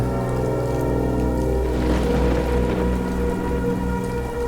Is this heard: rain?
yes